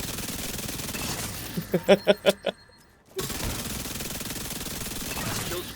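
About five sharp, evenly spaced shots from a Backfire weapon during a solo Heroic Retaliation mission in a video game, loud and close, followed by a moment of near silence before background game sound returns.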